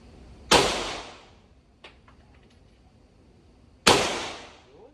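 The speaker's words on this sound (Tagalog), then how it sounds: "Firing!" Two sharp, loud gunshots roughly three seconds apart ring out at a firing range where shotguns and pistols are fired, each blast decaying into a short echo, with a faint click between them.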